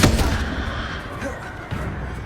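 A Confringo fire spell blasts during Hogwarts Legacy combat, a sharp explosive burst at the start followed by a dense, noisy rumble of game action and effects.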